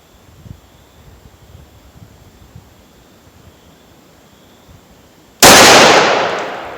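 A Taurus 605 revolver fires a single loud, sharp shot outdoors after several seconds of quiet wind and faint rustling. The blast rings out and decays slowly.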